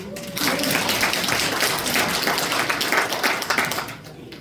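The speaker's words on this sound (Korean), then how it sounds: "박수 한번 쳐주세요." Audience at a Korean committee report meeting on the Gadeokdo new airport project breaks into applause, a dense, sustained patter of many hands that swells in, holds steady for several seconds, then tapers off.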